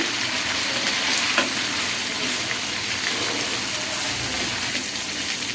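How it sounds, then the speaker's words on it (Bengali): Shrimp frying in spice masala for a coriander-leaf shrimp bhuna, giving a loud, dense, unbroken sizzle with a few faint stirring clicks, close up and without talk. "এবার মাছগুলো দিয়ে কষিয়ে নেব মাছগুলো দিয়ে দিলাম"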